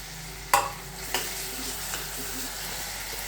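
Ghevda bean amti with peanut powder is sautéed in a pan, giving a steady soft sizzle broken by a few sharp spoon knocks and stirring scrapes, and no voices.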